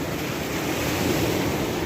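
Sea waves break along the shore at Alanya in a steady, loud wash of surf, mixed with gusty wind buffeting, with no voices.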